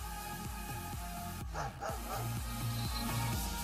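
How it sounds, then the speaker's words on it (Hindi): A German shepherd barks back at a barking dog skeleton toy, giving a steady run of repeated close barks with a short pause midway. "कुत्ती का कंकाल जैसे ही भौंकता है, वैसे ही पास में खड़ा जर्मन शेफर्ड कुत्ता भी भौंकने लगता है।"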